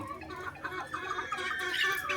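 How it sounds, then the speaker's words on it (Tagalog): Hens cluck and murmur softly close by in a short, busy run of overlapping calls. "Ayan, mga inahin natin."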